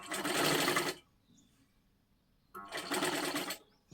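A sewing machine stitches a blouse in two steady, fast-whirring runs, close and fairly loud, separated by a quiet pause.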